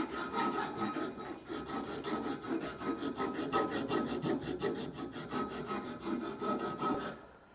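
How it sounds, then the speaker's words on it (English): A flat file rasps across the edge of a steel pipe to chamfer it, in a quick, regular series of back-and-forth strokes at close range, fairly quiet and with no speech. "using a flat file, is make a leading edge by chamfering the edge of the pipe"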